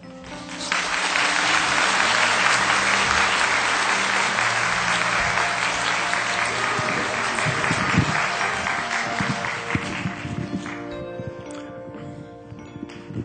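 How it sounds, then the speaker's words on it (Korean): A church congregation applauds a guest speaker in a dense, sustained wash of clapping that holds steady for most of the stretch before thinning out toward the end over a faint low hum. "이 모든 박수는 하나님께 돌립니다."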